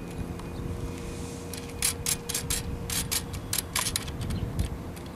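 A wing nut spun down over a lock washer on a Diamond A502HB antenna mount gives a quick series of close metallic ratcheting clicks above a steady low background hum.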